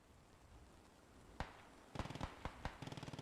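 Rapid gunfire between German and American squads in a World War II-style war video game, starting with a lone sharp shot, then bursts of repeated cracks building toward the end, fairly distant.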